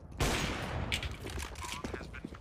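Counter-Strike gunfire: a sudden loud burst of shots opens, followed by scattered rapid shots and clatter, with a player talking in the background.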